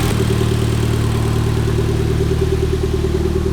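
A Mitsubishi Evo X with a freshly swapped 4B11 engine idles steadily, a smooth, even, close-up drone with a constant low hum and no voices.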